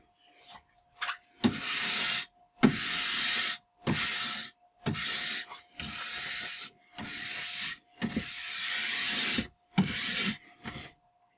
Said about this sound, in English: I'm going to take a couple passes with the brass brush again to kind of stir it up